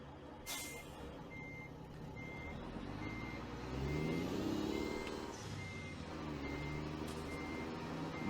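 Truck in American Truck Simulator backing up toward a trailer, its reversing alarm beeping at a steady, evenly spaced rhythm over a rumbling diesel engine that swells as it moves, with a sharp air-brake hiss at the start.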